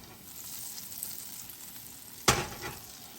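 Onions and butter sizzle in a skillet for a soyriso and egg breakfast, a steady low crackle with one sharp loud hiss burst near the end as the butter hits the hot pan.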